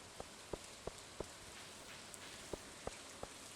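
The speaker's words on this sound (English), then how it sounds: "It's the weird rain noises." Rain ambience in the video game Stardew Valley, a soft steady wash with a series of evenly spaced light ticks or drips on top, faint overall.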